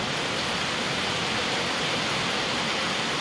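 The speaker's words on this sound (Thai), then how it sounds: "ฝนมันตกเนอะ" Steady heavy rain pours down outdoors in Thailand, a dense, unbroken hiss with no individual drops standing out and no voices over it.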